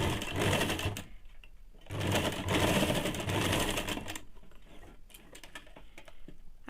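Domestic sewing machine stitching over the elastic waistband of a ladies' pant to lock it, running in two quick bursts of rapid close needle clatter separated by a brief pause, with softer handling sounds after.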